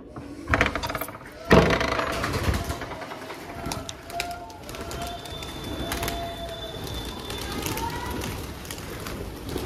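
Pigeons on a rooftop coo softly amid outdoor ambience, with wing flaps and scuffling thumps near the start and faint chirps scattered through.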